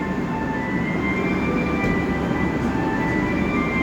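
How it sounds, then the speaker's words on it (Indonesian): A Walahar Express commuter train rolls into Karawang station in a loud, continuous rumble, with a steady hum and faint high whine, and no voices. "kereta api Walahar Express komuter lain Walahar masuk stasiun Karawang."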